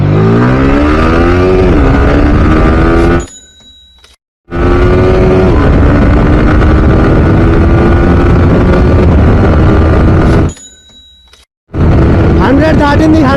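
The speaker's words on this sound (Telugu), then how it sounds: "let's launch the bike in the count of 3" A Yamaha R15 motorcycle accelerates hard from a launch, its engine screaming loud and close as revs climb through each gear, with two sharp breaks for upshifts before the whine rises again over heavy wind noise.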